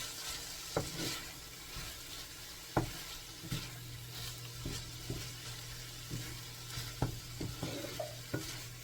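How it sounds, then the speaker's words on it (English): Shrimp and pumpkin fry in hot oil in a pan while being stirred, giving a steady close sizzle broken by scattered scraping knocks of the utensil, with no talk. "Give it a mix and let it fry."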